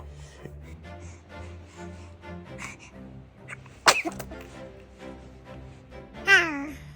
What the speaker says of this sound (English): Is that you trying to sneeze?